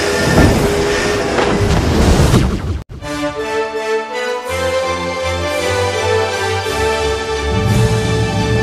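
Southern Railway special train between Chennai Egmore and Tirunelveli, a steady loud rail rumble with clattering wheels, cut by a brief drop near the middle before the running noise resumes with tonal hum.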